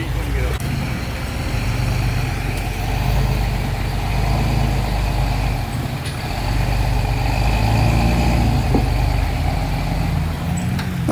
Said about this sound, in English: That thing sounds like a V8 to me.